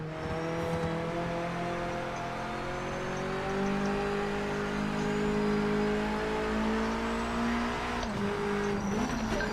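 A Mazda MX-5 race car engine in Project Motor Racing holds a steady, droning note at moderate volume through a ranked online race, with slight pitch shifts, a brief dip and then a rise near the end.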